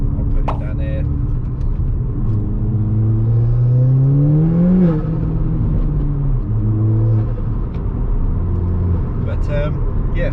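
A Ford Fiesta ST180 with an RT330 turbo drives on a quiet South Essex road, its engine droning steadily and rising in pitch through the gears, with someone talking over it.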